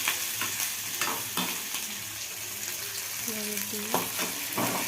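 Onions and green chillies stirred into a hot cumin and mustard seed tempering: steady oily sizzle with scraping spoon strokes against the pan, close and continuous, no talk.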